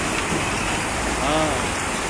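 A strong river current rushing along, a steady loud broadband roar of flowing water filling the whole scene without pause.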